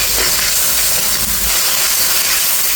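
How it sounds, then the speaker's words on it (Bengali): A spice paste for a doi potol curry sizzles and fries in a pan, making a loud, continuous close-up hiss with no pauses. "এখন আমি খুব সুন্দর করে কষিয়ে নিচ্ছি।"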